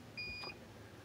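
A short, clear electronic beep from the audible alarm of a campsite video surveillance system, a single tone of about a third of a second against a quiet background.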